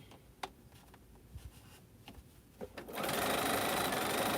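A sewing machine stitches a quilt seam: a few soft clicks and taps over near-silence, then the motor kicks in for a loud, steady, close whir that runs to the end.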